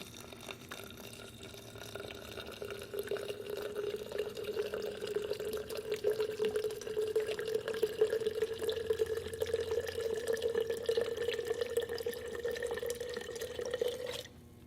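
Alcohol poured in a steady, unbroken stream into a glass jar while making an herbal tincture, a soft trickling splash that runs continuously for about fourteen seconds and then stops abruptly.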